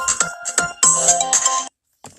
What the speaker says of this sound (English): Sorry, I just got a phone call coming in.